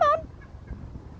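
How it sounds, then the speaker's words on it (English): A single small bantam chicken lets out a brief, clear call right at the start, then only faint low background noise follows with no further calls. "They're like these little weeny bantam chickens."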